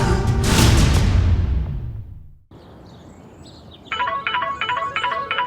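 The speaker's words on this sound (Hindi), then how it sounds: "आयन का फोन तो यहाँ ही बज रहा है" A mobile phone rings indoors, a loud electronic ringtone of repeating chirpy beeps in a steady rhythm that starts after a fading rush of sound and a brief silence.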